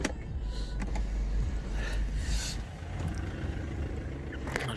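A low electric motor hum with faint mechanical scraping runs steadily for several seconds as a powered rear sunshade slides inside a Mercedes-Benz E220, no talking.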